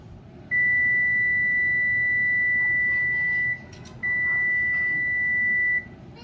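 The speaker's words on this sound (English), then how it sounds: "my 10-minute timer will be going off" A steady high electronic beep from a kitchen timer sounds alone, holding for about three seconds, pausing briefly, then resuming for nearly two more seconds over faint room noise.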